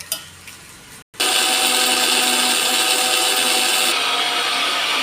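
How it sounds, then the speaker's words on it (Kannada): A kitchen mixer grinder whirs at full speed, grinding coconut and soaked tamarind for a Kerala-style fish curry. The motor starts with a loud, steady roar after a brief quiet moment with a click. "ಎಲ್ಲ ರುಬ್ಕೊಳ್ಳೋಣ."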